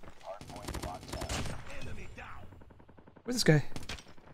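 A Cordite LMG fires in Call of Duty Mobile in rapid automatic bursts, a dense rattle followed by a shorter volley, with someone talking over the shooting.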